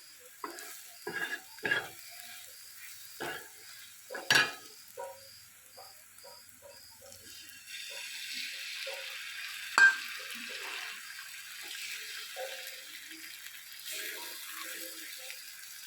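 Egg bhurji frying and being stirred in a pan, with a steady soft sizzle and repeated scraping, clicking strokes of the spoon against the pan, close and clear with no talking.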